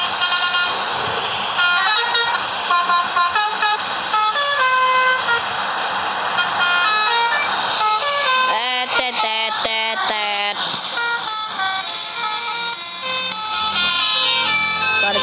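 Telolet bus horns blare at the Cheng Ho mosque in Pandaan, a loud, close, multi-tone melodic honking played in rapid stuttering phrases with a sustained rising chord burst midway, continuing for the whole stretch.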